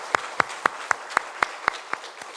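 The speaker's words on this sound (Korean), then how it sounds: "건강하시라고 하나님 함께 하시라고 큰 박수로 함께 축복하겠습니다" Ten slow, evenly spaced single claps from a small group, gathered in a church during a Sunday Parents' Day worship service in Namyangju, each clap crisp and moderately near.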